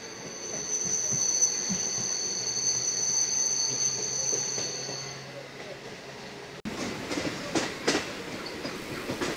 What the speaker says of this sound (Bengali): আমাদের ট্রেনটা শিয়ালদা সার্কুলার লাইন থেকে শিয়ালদা বজবজ লাইনে ঢুকছে।